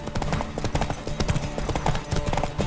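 Hooves clip-clop in a quick, uneven rhythm as a horse gallops in The Witcher 3: Wild Hunt, loud and close against a busy game background.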